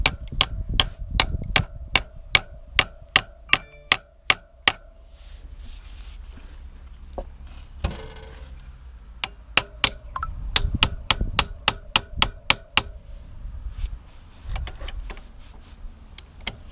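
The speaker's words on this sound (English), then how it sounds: "Should be using a hammer for this." Metal-on-metal hammer strikes drive a bit into a tight bolt on a Kawasaki KLX 125 motorcycle: two runs of sharp, evenly spaced, loud blows, separated by a quieter stretch of handling noise.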